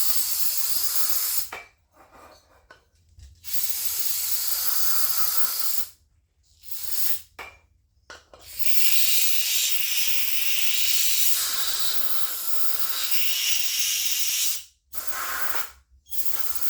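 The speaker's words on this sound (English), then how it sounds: "Giving this cylinder one last spray down" An aerosol spray can hisses in several long and short bursts with brief pauses between them while cleaning the cylinder of an Echo CS-550P chainsaw. The bursts are close and fairly strong.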